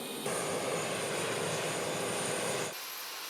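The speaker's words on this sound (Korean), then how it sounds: "엔진 성능을 향상시키기 위해서 지금 엔진 워러워싱을 수행하고 있는 겁니다." An airliner engine, noted in context as an A330 type, runs during an engine water wash, giving a loud steady roar with a high whine that cuts off sharply near the end, no speech.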